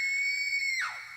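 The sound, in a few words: girl's terrified scream, horror story sound effect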